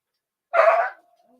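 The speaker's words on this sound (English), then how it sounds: "My dog's whining here." A dog lets out one short, loud whining yelp that breaks off after about half a second, leaving a faint thin tone trailing behind; no one talks over it.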